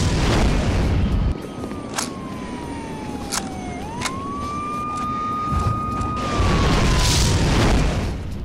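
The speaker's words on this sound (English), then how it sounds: "this is obviously the reason for all the explosions and things" Video-game explosions in Chaser: deep rumbling booms and blasts roll under a wailing siren-like tone that slides down and back up, with occasional sharp cracks.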